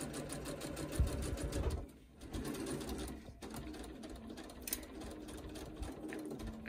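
Sewing machine slowly stitching curved quilt pieces at a reduced stitch length, giving a steady, quiet mechanical whir with a regular rapid needle rhythm that pauses briefly and then resumes.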